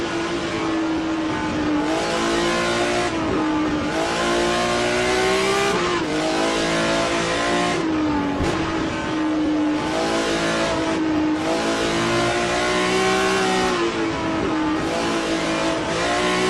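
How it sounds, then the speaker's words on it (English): BMW M1 Group 5 race car in a racing video game at Lime Rock, heard from the cockpit: a loud, continuous engine roar that climbs through the revs and drops sharply at repeated gear changes. "Here's the view from Ross Smith's cockpit in the number 0 BMW M1 Group 5."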